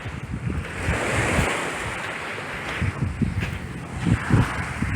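Aegean Sea waves wash onto a beach on Lesbos near Plomari in a continuous surging hiss, with low rumbling breakers rolling in and some wind buffeting the microphone.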